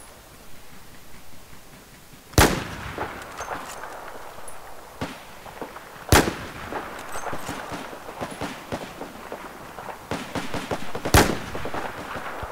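SKS rifle fire in Battlefield 4, three sharp, loud single shots spaced several seconds apart, each with a short echoing tail, over quieter background battle noise and clatter.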